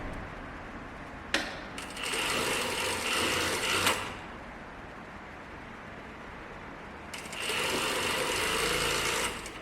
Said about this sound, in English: pivot the fabric, and then start sewing